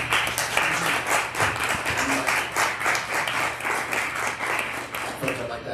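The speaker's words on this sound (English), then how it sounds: "Applause is not helpful, it's just a bit disruptive." Audience applause fills a committee meeting room, steady dense clapping from many hands lasting throughout, fairly close and loud with murmured voices underneath.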